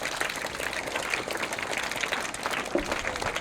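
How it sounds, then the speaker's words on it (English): Students at a school quiz activity applaud a girl for a correct answer, continuous moderately loud clapping from a room of children, fairly even with a few sharper claps. "Give her a big round of applause."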